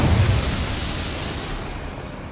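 An Incendio fire spell cast in Hogwarts Legacy, a loud whooshing burst of flame with a low rumble that fades steadily over two seconds, heard alone.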